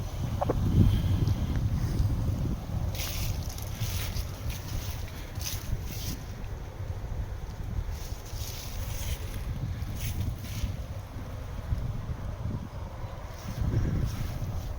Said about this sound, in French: Je suis désolé, il y a un petit peu de vent.